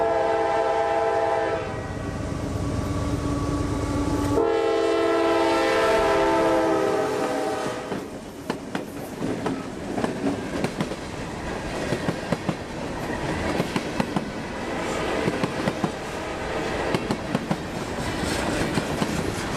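A freight train sounds its horn with long, loud blasts as it nears a crossing in Central Florida, then rumbles past close by with a steady clickety-clack of wheels over the rail joints.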